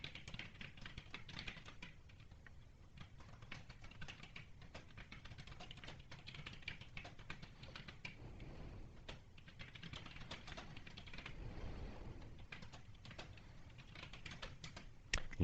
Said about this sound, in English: that was quite a bit of typing